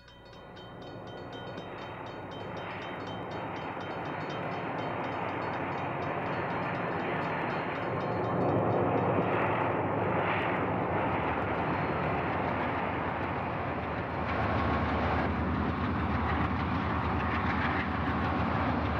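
A Southern Pacific train of empties climbs through the Tehachapi mountains near Mojave with helper engines, a deep rumbling roar that builds from moderate to loud and holds steady with rolling wheel noise, alone without talk.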